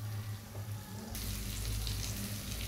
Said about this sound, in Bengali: মটরশুঁটিটাকে একটু নেড়ে ছেড়ে একটু ভেজে নেব